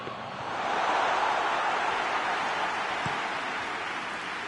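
Steady broadband hiss of rain falling on a football pitch during a PES 21 eFootball match, swelling slightly after the start and holding as a continuous wash with no voices over it.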